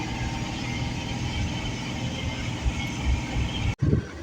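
A train rumbles steadily nearby with a continuous rolling roar and faint rhythmic clatter, then a brief louder thump near the end, at Roha station.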